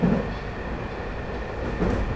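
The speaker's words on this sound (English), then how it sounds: "this train traveling from Oslo to Bergen" A passenger train running from Oslo to Bergen gives off a continuous low rumble of rolling carriages, steady and fairly loud, with faint clicks from the wheels.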